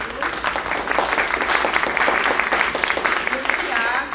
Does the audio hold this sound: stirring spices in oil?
no